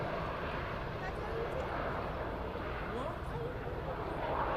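Bell-Boeing MV-22B Osprey tiltrotors of the US Marines fly a two-ship power demo at an air show, a broad continuous roar of engines and rotors heard throughout, with a commentator talking over it.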